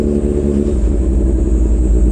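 A Kawasaki ZH2 motorcycle engine idles steadily to warm up after sitting unused for about a month, giving a continuous, close, loud low rumble with no voices.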